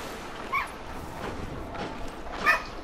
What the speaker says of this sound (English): I always hate when dogs cry.